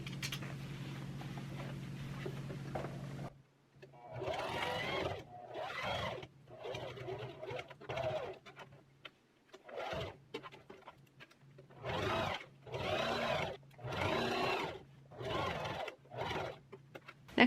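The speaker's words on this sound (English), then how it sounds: "I'm going to go ahead and start sewing around the edges of these pads." A sewing machine stitches around the edges of washable cloth sanitary pads, with a steady whir at first followed by a run of short, rhythmic stitching bursts separated by pauses, close and clear.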